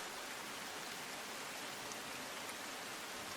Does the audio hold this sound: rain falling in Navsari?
yes